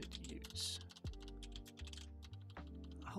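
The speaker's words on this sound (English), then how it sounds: "I hope my typing's not too loud." Typing on a computer keyboard while working in the image-editing software ComfyUI, a steady patter of close, crisp key clicks with irregular rhythm over a faint tonal background.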